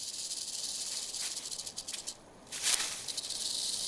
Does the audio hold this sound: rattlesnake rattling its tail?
yes